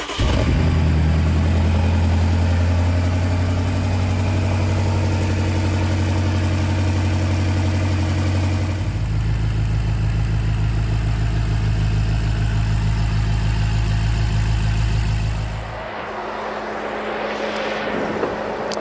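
Engine of a BMW X6M after repair with freshly lapped valves, running at a steady, loud idle close by; the idle note shifts to a fuller, slightly rougher pitch midway, then the engine cuts off, leaving quieter noise.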